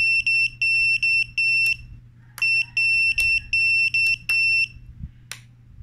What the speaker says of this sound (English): I think I also set up a buzzer for it.